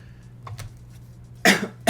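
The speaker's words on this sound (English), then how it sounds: "Sorry if I'm coughing, guys." Two short, sharp coughs close to the mic, the second right after the first, following a quiet stretch.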